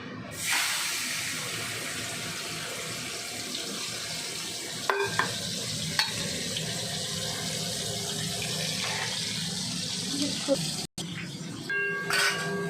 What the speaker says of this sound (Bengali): তেলটার মধ্যে ভেজে রেখে দিই